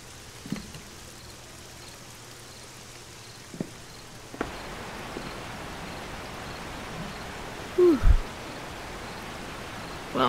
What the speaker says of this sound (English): It's always raining at this house